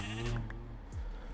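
Sheep bleating in the video game Minecraft: a short wavering baa, close and clear, followed by a quick low downward sweep near the end, with no speech.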